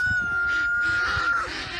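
On a farm, a rooster crows loudly nearby while hens cluck in short bursts around it.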